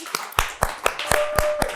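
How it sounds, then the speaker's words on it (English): A handful of people clap in a short, uneven round of applause after a comedy podcast chat about carne asada and Caribbean grilling, about seven distinct sharp claps spaced apart, close and moderately loud. "Let's give a round of applause."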